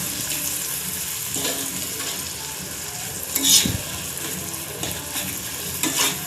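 Chopped eggplant frying in a pan for bharta, a steady sizzle under intermittent stirring scrapes and a few louder bursts of crackle, close and continuous.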